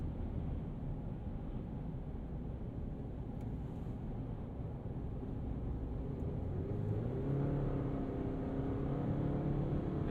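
The engine of a 2023 Chevy Colorado Trail Boss with an 8-speed automatic, heard from inside the cab, drones steadily under road and wind noise, and its pitch rises gently toward the end as the truck accelerates.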